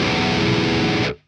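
Electric guitar played through a Bogner amp with heavy distortion, a dense sustained chord that rings loudly and then cuts off abruptly.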